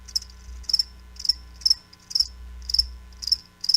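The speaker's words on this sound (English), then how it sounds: "That's right, crickets." Cricket chirping used as a sound effect in a radio advert: short bright trills repeating about twice a second in a steady rhythm over a faint low hum, close and clear with no talk.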